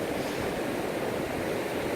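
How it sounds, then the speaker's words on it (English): Sea water surges and washes over rocks at Westcombe Bay in the South Hams, a steady, loud rushing wash with wind noise and no voices. "capture some of the water coming over the rocks"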